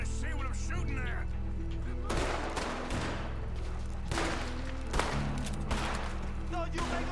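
Gunshots crack out in Red Dead Redemption 2 during a night shootout, several sharp reports spaced irregularly over a steady low musical backdrop, with voices talking between shots.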